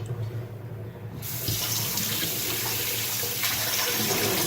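Cold water runs steadily from a kitchen faucet onto thawing chicken in a sink, a close, continuous splashing rush that swells louder after the first second and holds even.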